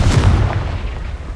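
Confringo blasting spell explosion in Hogwarts Legacy, a single loud, deep boom that hits at once and rumbles away over about a second.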